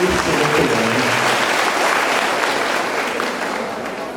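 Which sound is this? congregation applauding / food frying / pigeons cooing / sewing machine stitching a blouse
congregation applauding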